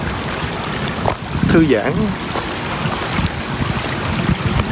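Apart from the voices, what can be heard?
creek water flowing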